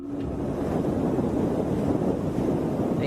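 Strong wind blowing on a night in Spain, a steady, loud broadband rush with a low rumble that holds constant throughout, with no voices.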